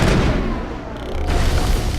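Assault rifles fire in the video game Mass Effect in a dense, loud, continuous barrage of booming shots that dips briefly mid-burst before resuming at full force.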